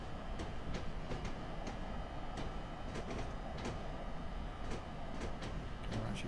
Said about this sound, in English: you got that buzz of the electric cables